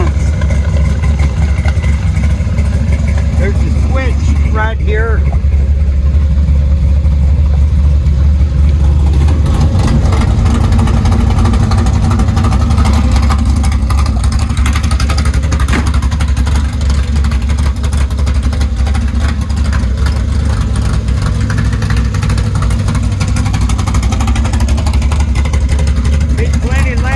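A '55 Chevy Gasser with a 540 cubic inch engine and 5-speed runs with its exhaust dumps open, giving a loud, steady, deep rumble that fills the whole stretch while people talk over it.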